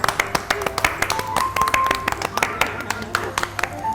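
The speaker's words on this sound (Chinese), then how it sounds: "他的表演实在太精彩，当场赢得一片掌声。" An audience at a live Venetian glassblowing demonstration breaks into scattered, crisp handclaps that continue in an uneven patter, with faint voices and room sounds underneath.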